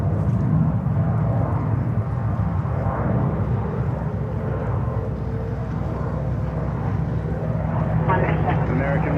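A jet aircraft roars on runway 22 right at JFK during a busy outbound takeoff rush, a steady loud broadband engine rumble that holds throughout with a faint whine rising near the end.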